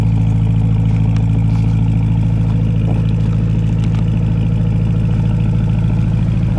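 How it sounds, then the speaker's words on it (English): A Porsche Panamera Turbo S E-Hybrid Sport Turismo with sports exhaust rumbles loud and steady at a low, deep idle, a constant drone without any talk. "Really loud. I believe it's thanks to the sports exhaust."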